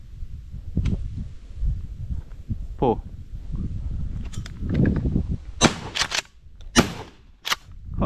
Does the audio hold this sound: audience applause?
no